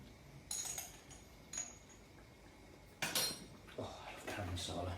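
Chicken curry being stirred in a pan with a spoon after garam masala goes in, giving several clinks and scrapes of utensil on cookware, moderately close, with quieter stretches between.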